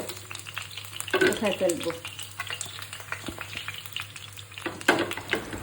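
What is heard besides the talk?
frying the sides of a large tilapia fish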